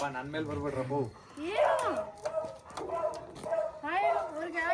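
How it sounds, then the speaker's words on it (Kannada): Two dogs play together, making yips, whines and short barks close by, with people talking over them throughout. "ಇಲ್ಲಿ ಈ 2 ನಾಯಿಗಳು ಹೆಂಗ್ ಆಡ್ತಿದೆ ಅಂತ"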